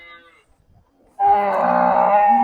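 A jersey cow at a cattle market lets out a loud, sustained moo close by after a moment of quiet, with fainter animal sounds just before it.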